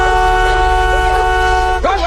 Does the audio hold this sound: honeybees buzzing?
no